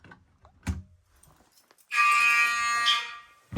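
A fire alarm device sounds in a basement system test: after a few scattered knocks and bumps, a loud harsh buzzing horn tone blares for about a second and a half, then cuts off before another knock.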